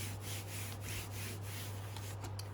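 Fabric is burnished firmly onto a hard cover journal board by hand, giving a steady, close rubbing swish in quick repeated strokes with no talk.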